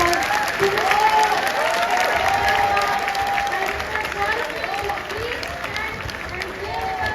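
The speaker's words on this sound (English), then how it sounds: "give a big round of applause to all" A college auditorium audience claps steadily for several seconds, with a few voices and shouts rising over the continuous applause.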